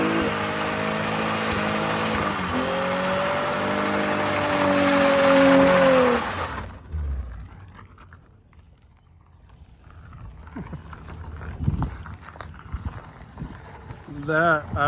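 Engine of a mid-engine EK Honda Civic drift car revving hard and bouncing off fuel cut, a loud harmonic rise held for several seconds, then cutting away to quieter scattered noise and talk.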